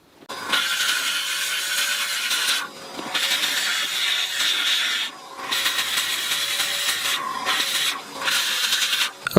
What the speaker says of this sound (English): then I will hoover anything I can remove